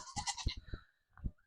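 A goat gives a loud, wavering bleat close by, then a second shorter bleat follows after a brief pause.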